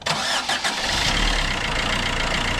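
A garden tractor engine being started with a Yuasa Garden U1 battery: a brief starter crank that catches and settles into a loud, close, steady idle, with no talking.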